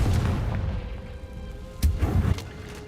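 Bombarda and Confringo spell explosions in the game Hogwarts Legacy, a rumbling roar with two heavier booming bursts near the end, no talking.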